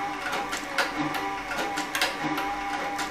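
A leather harness sewing machine with compound walking feed stitches a belt, giving a steady mechanical whirring with faint rhythmic clatter, close and moderately loud throughout.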